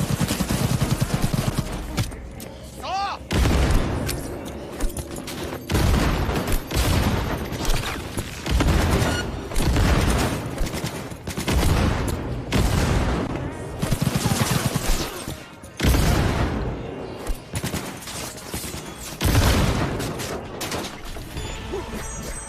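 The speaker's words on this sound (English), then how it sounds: "Grenade time." Grenade blasts and sustained gunfire in a Cyberpunk 2077 fight on very hard difficulty: loud, dense volleys and crashing booms that come in repeated waves with short pauses between.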